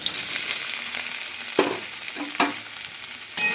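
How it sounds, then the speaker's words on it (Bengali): Soybean chunks sizzle in the hot oil left from frying potatoes, a steady crackling bed broken by a few louder stirring scrapes and spatters, close and without talk. "আলু ভাজার তেলের মধ্যে আমি সোয়াবিনটা ভেজে নেবো"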